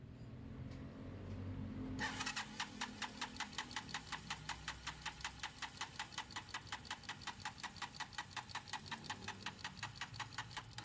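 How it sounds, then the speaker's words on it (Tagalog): A motorcycle engine that repeatedly fails to start, choke raised, cranks in a steady rapid rhythm of even pulses after a brief quiet start, running on for several seconds without clearly catching. "minsan ayaw mag-start tong motor na to"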